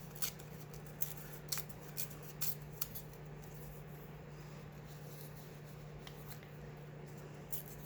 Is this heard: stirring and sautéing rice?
no